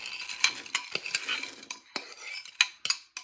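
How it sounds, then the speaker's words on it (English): Frozen vegetables being stirred into teriyaki noodles partway through microwaving, with a utensil scraping and clinking against the dish in several short, close strokes and brief pauses between them. "now I'm gonna add my frozen veggies"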